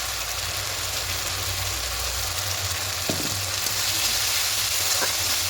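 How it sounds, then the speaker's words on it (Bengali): A paste of mustard, poppy seed and green chili fries in a pan for a mustard-poppy bata fish dish, giving a steady, even sizzle throughout with a few soft stirring touches and no voices. "এই সময়তে মশলা পেস্টটা দিয়ে দেবো। সর্ষে পোস্ত কাঁচা লঙ্কা পেস্টটা করেছিলাম, ওটা দিয়ে দেবো।"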